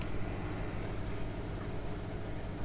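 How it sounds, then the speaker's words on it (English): A boat motors through a waterway at 1500 revs, about six knots. Its engine gives a steady, broad drone mixed with wind and water noise, constant from start to finish. "we're doing 1500 revs and we're doing about 6 knots"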